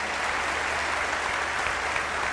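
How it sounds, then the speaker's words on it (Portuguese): A church audience applauds for Uruguay at an evangelical gathering, a sustained, loud wash of many hands clapping at once with no speech over it. "E um aplauso para Uruguai."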